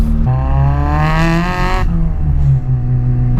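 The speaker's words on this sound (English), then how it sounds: "when the turbo starts spooling, my god, it is like a symphony of choo-choos and screamer noises going off" A turbocharged 200 BHP Toyota Starlet with a screamer pipe revs close by, its rising engine note topped by a whooshing turbo spool and a brief screaming burst before settling back to a lower idle.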